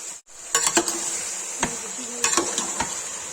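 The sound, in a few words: chicken being stirred and fried in a pan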